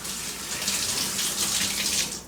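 Tap water runs steadily as hands are rinsed under it in a home kitchen while baking a fruit cocktail cake, a close, continuous splashing hiss lasting a couple of seconds with no talk.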